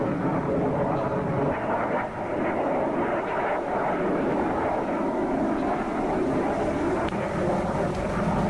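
Military jet aircraft returning and landing aboard the Russian carrier Kuznetsov in a 2002 naval campaign video game, a steady loud engine roar filling the whole stretch with no voices.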